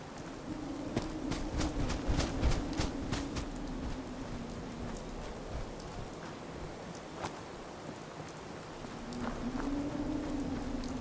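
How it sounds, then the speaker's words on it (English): Rain falling in the video game Fallout 4: a steady, soft hiss of rainfall throughout, with scattered sharp taps of drops hitting surfaces and a low rumbling hum rising and fading beneath it. "That's cool, it's raining in the game."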